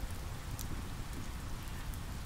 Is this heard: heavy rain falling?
yes